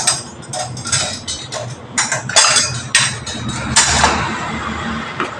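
Plum cake batter gets stirred in a bowl while flour is added a little at a time, with a run of scraping clinks and knocks against the bowl at an uneven rhythm, close and fairly loud.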